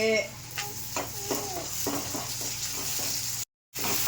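A tomato fries with softened onions in a pan for a homemade herbal kuzhambu, sizzling steadily up close while a spoon scrapes and stirs in short repeated strokes, with a brief dropout near the end.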